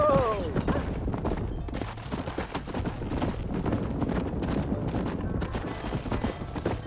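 Horse hooves clip-clop steadily and loudly throughout a ride in the video game Red Dead Redemption, a continuous galloping patter layered over dense in-game ambience.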